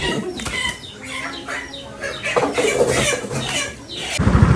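Several chickens cluck and squawk in a noisy, agitated flurry, with wing flaps and scuffling close by and a brief burst of commotion near the end.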